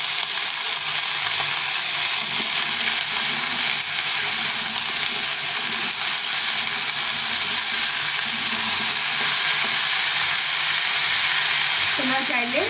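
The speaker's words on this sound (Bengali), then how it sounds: "এই সবটাই দিয়ে দেবো। দিয়ে একটু ভালো করে ভেজে নেব।" Banana stem, drumstick stalks and beans sizzle steadily in hot oil, a continuous bright frying hiss with faint stirring throughout, close and fairly loud.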